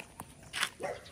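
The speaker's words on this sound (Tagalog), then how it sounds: "Maraming aso." A dog barks a few times at mid distance, with two or three short yelps spread across a moment of faint outdoor background.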